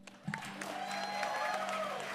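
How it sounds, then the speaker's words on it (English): A crowd at a venue's grand opening claps for the crew, the applause building into a steady patter that runs under a sustained musical tone. "please give a round of applause for my crew that has worked so hard to put all this together today."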